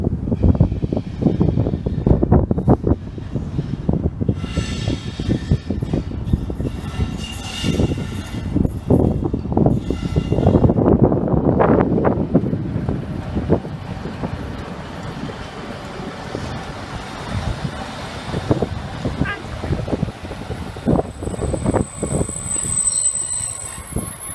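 A locomotive-hauled train rolling through Grantham station, loud and close, with heavy rumbling wheel clatter, rhythmic rail joints and high squeals that gradually ease as it moves away.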